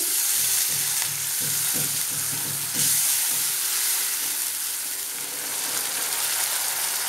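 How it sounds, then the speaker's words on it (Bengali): Chili cauliflower masala hissing loudly in a pan after chili powder and a splash of water go in: a dense, close, unbroken sizzle with a handful of light stirring knocks near the start. "লঙ্কা গুঁড়োটা দিচ্ছি, দিয়ে একটু নেড়ে দিলাম। আঁচটা আমি কমিয়ে দিয়েছি। অল্প একটু জল দিচ্ছি।"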